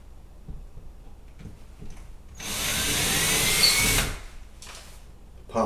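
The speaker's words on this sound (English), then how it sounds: "Then, with a 1/4 inch drill bit," Quiet handling noises, then a power drill with a 1/4 inch bit whines for about a second and a half at steady speed drilling into a wall before stopping, followed by light rustling.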